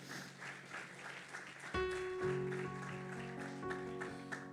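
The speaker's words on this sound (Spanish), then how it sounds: "Denle un aplauso al Señor" Church congregation applauding during a Spanish-language sermon, a diffuse wash of clapping that swells and then carries on under sustained organ or keyboard chords entering midway.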